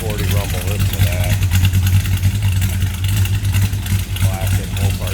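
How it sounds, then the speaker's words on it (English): A 1969 Plymouth GTX with a 440 V8 idles behind the car, a steady deep rumble with a loping pulse, and someone talks over it throughout. "Listen to that 440 rumble."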